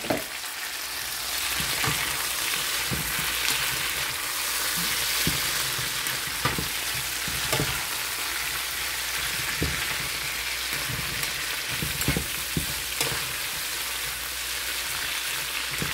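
Orange sweet peppers and Roma tomatoes sizzle steadily in a hot pan for a dried salted fish escabeche, a continuous frying hiss broken by regular clinks and scrapes of stirring.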